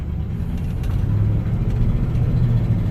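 A classic car engine accelerating on Boulder Highway, a loud, steady low rumble that rises in intensity as it pulls through the gears, with no talking.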